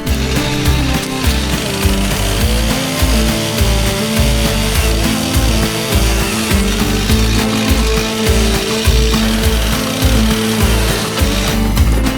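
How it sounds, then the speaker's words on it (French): A light electric chainsaw with a dull, unsharpened chain cuts firewood in winter, its motor whining and straining in uneven pulses as the chain chews slowly through the wood, loud and close without pause. "celle-là elle est pratique hein, légère, électrique et tout. Mais la chaîne elle taille pas."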